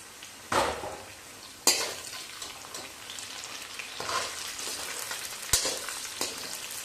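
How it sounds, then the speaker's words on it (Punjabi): Onions frying in a pan for a chicken masala gravy, with a steady sizzle broken by a few sharp clatters of a spoon or utensil stirring against the pan, close and fairly loud, without talk. "ਪਿਆਜ਼ ਨੂੰ ਭੁੰਨ ਲਾਂਗੇ ਚੰਗੀ ਤਰ੍ਹਾਂ"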